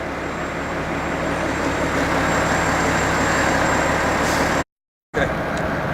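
A Qwik Tip truck idles with a steady, loud diesel rumble and a faint high whine, broken by a short dropout near the end.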